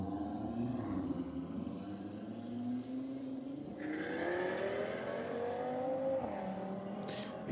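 A Ford Focus and an Audi accelerate hard side by side in a roll drag race, engines rising in pitch as they pull away, heard from some distance with a steady high whine.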